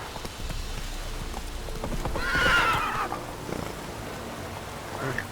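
Roach, the horse in the video game The Witcher 3, runs with a quick clip-clop of hooves and gives a loud whinny midway, fairly close.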